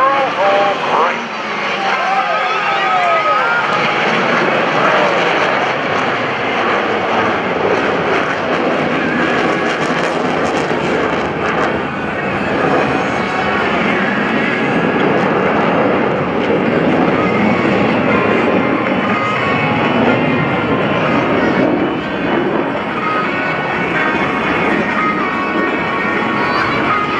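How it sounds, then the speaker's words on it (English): US Navy Blue Angels F/A-18 Hornet jets performing break turns at a naval air station airshow. A loud, steady jet engine roar fills the whole stretch, with a narrator's voice over it. "each pilot will perform an individual brake turn and exit the flight line in a separate direction"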